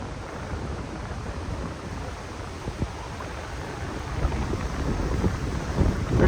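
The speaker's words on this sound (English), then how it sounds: "Pretty windy out today, unfortunately." Strong wind gusts buffet the microphone outdoors beside water flowing along a roadside in the back country, a steady roar growing rougher and louder toward the end, with no speech.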